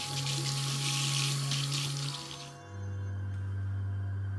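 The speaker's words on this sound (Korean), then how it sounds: "화장실에 가보니 수도에서 혼자 녹물만 흐르고 있을 뿐" A running tap pours rusty water in a bathroom, a loud hissing stream for about two seconds before the flow drops to a quieter, steady trickle with a low hum underneath.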